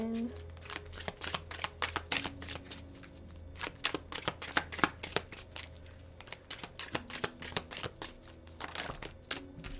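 Tarot cards are shuffled in rapid, crisp riffling snaps that repeat steadily throughout, close up, with a low hum underneath and a voice talking now and then.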